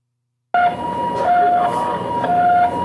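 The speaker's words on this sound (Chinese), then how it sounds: "救护车嘛赶到现场" Ambulance siren at the scene of a two-car collision on a mountain curve, sounding a steady, fairly loud wailing two-tone cycle that starts abruptly after a brief silence and continues alone.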